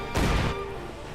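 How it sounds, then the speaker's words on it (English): A Panzer IV tank explodes as its fuel and munitions cook off in the Company of Heroes 2 strategy game, one loud roaring blast that decays into a lingering rumble. "Rather roaring explosion."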